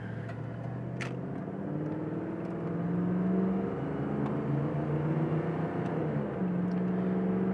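A 1988 Ford Mustang GT drives steadily on the road, its engine note rising and falling as it accelerates and shifts through the gears, heard from inside the car over constant road noise.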